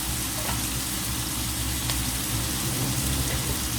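Omena (silver cyprinid) fish frying in a pan, giving a steady, dense, close sizzle that stays loud and even throughout with no break.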